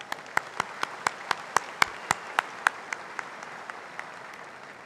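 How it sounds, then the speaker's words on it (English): Applause for dancers, circus performers and Chinese lion dancers at a university graduation ceremony: a steady, evenly spaced run of sharp claps that gradually thins and fades. "Another round of applause for our performers."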